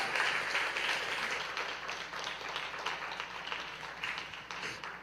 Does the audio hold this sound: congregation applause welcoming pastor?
yes